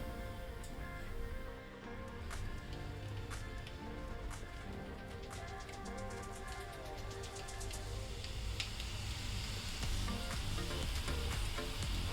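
Besan sev frying in hot oil, a steady dense sizzle with scattered crackles and pops running continuously throughout, no voices over it.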